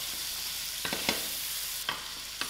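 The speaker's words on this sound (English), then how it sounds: "I'll give this a good stir" Dubla beans and masala are stirred in a sizzling pot for a luffa curry, with a few distinct scraping strokes over a steady close frying hiss.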